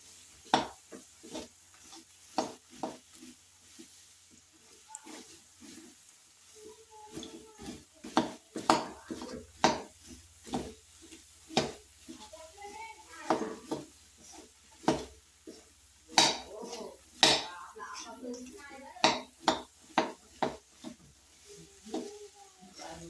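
Jaggery syrup bubbles and thickens in a pan while a spoon stirs it. Irregular scraping knocks and sticky popping clicks sound up close, with quiet stretches between them, then grow busier.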